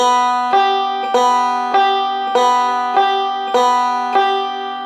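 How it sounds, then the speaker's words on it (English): A banjo plays a steady picking rudiment alternating between the 2nd and 5th strings, index finger leading, giving about eight evenly spaced bright plucks that ring clearly with no talking. "So let's do a 2-5, 2nd string, 5th string, starting with the index finger"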